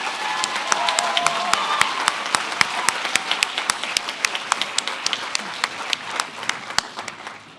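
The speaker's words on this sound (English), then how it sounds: "Let's give our award winners a round of applause." Audience applause for award winners at a school arts and culture awards assembly: sustained clapping from a sizable crowd, dense and steady with sharp individual claps standing out, fading slightly toward the end.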